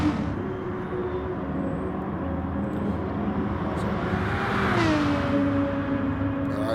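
Lamborghini race car in an online racing game championship on the Dragon Trail Seaside circuit, its engine droning steadily throughout with a rising pitch sweep near the end, loud and alone with no talk.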